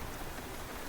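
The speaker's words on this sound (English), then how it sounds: "Come in out of the rain." Steady rain falls continuously on a surface, a dense even hiss with no voices over it.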